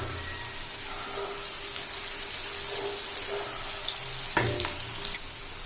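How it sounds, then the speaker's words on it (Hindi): Onions browning in hot oil with black cardamom pods, a steady close sizzle and crackle of frying throughout, with an occasional stir or clink and no talking. "प्याज को अच्छे से ब्राउन करेंगे।"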